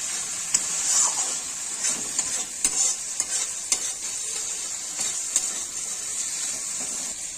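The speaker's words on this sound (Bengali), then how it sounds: "আর সয়াবিনটাকে সুন্দর করে কষে নেব" Dry soya chunks stir-fry in spiced oil, a steady bright sizzle with occasional sharp scrapes and taps from stirring, close and even in level.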